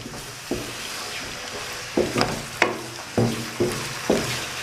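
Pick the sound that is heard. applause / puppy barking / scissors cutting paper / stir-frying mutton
stir-frying mutton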